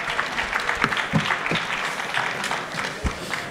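Audience at an architecture presentation event applauding, a steady dense clapping throughout with a few louder individual claps standing out, moderately near and alone without talk.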